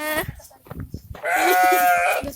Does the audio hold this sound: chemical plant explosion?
no